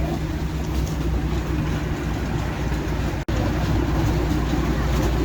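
A small park train rolls steadily through a holiday light festival at Griffith Park, a loud continuous rumble and clatter with a brief dropout partway through.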